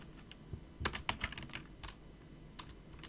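Quick, uneven keystrokes clatter on a computer keyboard while commands are typed, close but quiet, with no talking.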